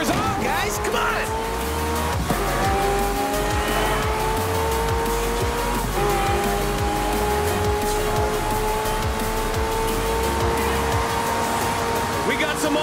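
Hypercars race through streets in Forza Horizon 4, engines roaring continuously with repeated tire squeals and skids, loud and busy under an excited voice talking throughout.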